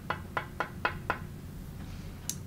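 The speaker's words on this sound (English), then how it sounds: "All you have to do is use it like a paddle and just lightly tap the tip." A tip tapper pad taps a pool cue tip in five quick, light, evenly spaced knocks, close and clear, followed by a lone sharper tap after a short pause.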